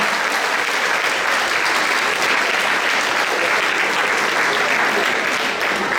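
Sustained applause from a large audience greeting gifted secondary-school students and their teachers at a reception in Kranj, a dense, steady wash of clapping that continues throughout without letup.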